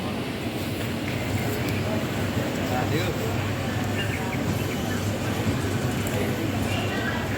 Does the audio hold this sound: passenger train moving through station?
yes